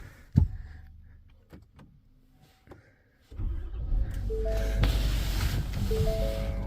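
Pickup truck unused for three days, with a few clicks and knocks before the engine cranks and catches, then a steady loud idle with a rough, rumbling note continuing to the end.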